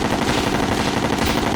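Rapid continuous gunfire from the Terraria video game rattles in a dense, loud stream, shots blurring into a steady automatic burst with no pauses.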